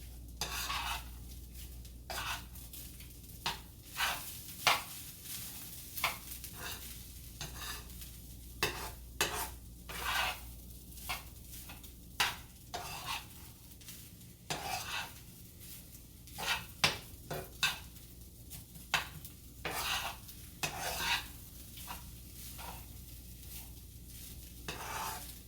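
Shrimp fried rice being stir-fried in a pan: a steady sizzle runs throughout, broken by frequent sharp clatters and scrapes of a utensil against the pan, close and fairly loud, with no talking.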